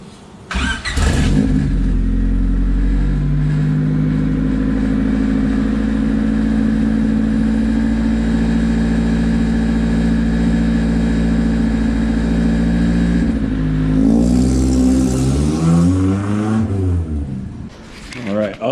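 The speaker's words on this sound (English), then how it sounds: "Other than a super rattly exhaust, the Estate is running fairly well." A Honda-swapped Mini Estate engine idles and runs steadily up close, its exhaust rattling and droning, then revs rise and fall near the end.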